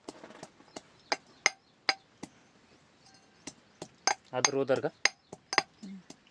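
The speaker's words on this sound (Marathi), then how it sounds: "लसूण कुटून घ्यायचा खलबत्त्यात" Garlic is pounded in a mortar and pestle, a series of sharp, hard knocks with a metallic ring, irregularly spaced and close, briefly joined by a short voice-like tone partway through.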